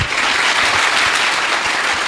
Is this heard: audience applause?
yes